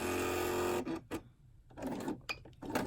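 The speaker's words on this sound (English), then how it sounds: "And I'm going to go all around top stitching this seam allowance down onto my shirt." Sewing machine top stitching a seam allowance down onto a dolman shirt, a steady close mechanical whir for most of a second, then short bursts of stitching separated by brief pauses.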